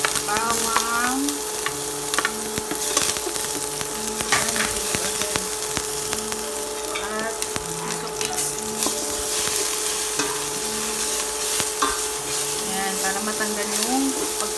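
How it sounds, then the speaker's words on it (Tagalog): Garlic sautés in oil in a pan for sinigang na bangus, with a steady close sizzle and occasional scraping stirs, and faint tonal chirps and hums sound behind it. "Gisa na natin yung bawang."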